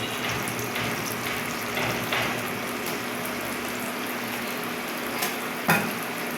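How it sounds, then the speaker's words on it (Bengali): Lentil fritters frying in oil in a new frying pan, giving a steady broadband sizzle with a few brief clinks and scrapes of a utensil and no talking. "এবারে আবার আমি এটাকে দিয়ে দেবো তেলের মধ্যে। এবার লাস্ট ভালো করে ভাজবো।"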